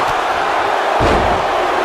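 Video game wrestling arena crowd from WWE 2K19, a dense, steady roar of many voices that surges slightly about halfway through, loud and close with no talk over it.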